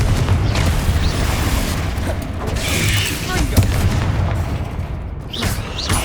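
Repeated Confringo fiery spell blasts in the game Hogwarts Legacy, loud booming explosions rolling one into another across the stretch with layered rumble and crackle.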